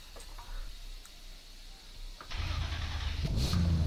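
In the rFactor 2 racing simulator, a car restarts after a stall: a quiet idle-free stretch with faint clicks, then the engine cranks and catches into a loud, steady running rumble with a rev rising at the end.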